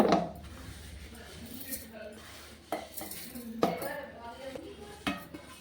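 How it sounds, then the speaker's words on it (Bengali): Gobindobhog rice grains pour into a mixer grinder jar, making a close, light rattle with a few sharp clinks against the jar amid soft handling noise. "সবগুলো চাল আমি মিক্সার জালের মধ্যে ঢেলে দিলাম"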